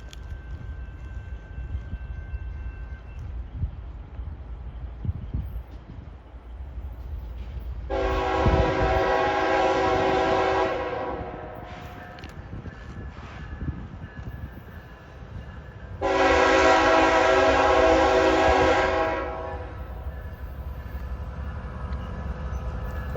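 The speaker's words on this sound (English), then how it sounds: "Here comes W24123, the southbound work train of Auburndale Connection." A southbound work train passes close by at a rail junction, its rumble rising as it approaches, with two long, loud horn blasts several seconds apart over the rolling of wheels and cars.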